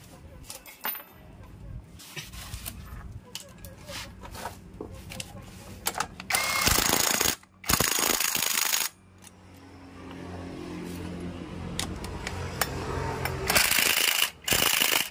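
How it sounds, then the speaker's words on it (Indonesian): Pulley nuts being tightened on a Honda Vario scooter, with scattered metallic clicks and ratcheting, then louder bursts of rattling from a power tool in the second half, no talking. "jangan lupa kita kencangkan juga ya untuk mur puli belakang dan juga untuk mur puli depannya"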